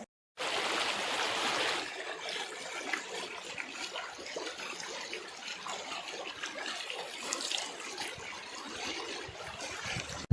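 A stony mountain river in the Beltar hills of Nepal flows steadily over rocks, a continuous rushing and gurgling wash of water heard close and unbroken throughout, with no voices.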